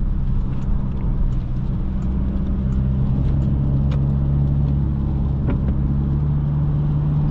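Toyota Hilux 2021 engine turning around 3,000 rpm at highway speed near 120 km/h, a steady low droning hum with road rumble that holds constant from inside the cab, with no talking.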